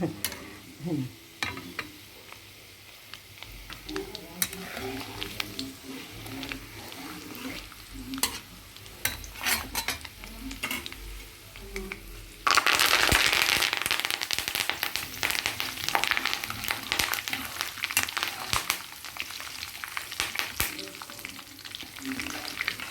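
Tempering seeds pop and fry in hot oil for a raw mango and ginger pickle, crackling in sharp bursts over a steady hiss that swells louder and denser in the second half.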